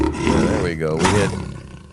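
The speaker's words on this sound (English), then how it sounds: "I'm going to give you a lion roar this morning" Loud roaring lion sound effect played on a morning show, one sustained roar swelling and fading over about two seconds with a rising-falling tonal sweep, heard alone.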